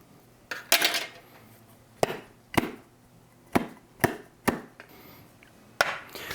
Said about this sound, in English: let's see if we can get a spoon. Let's see if we can use this as a bit of a lever to try and get this out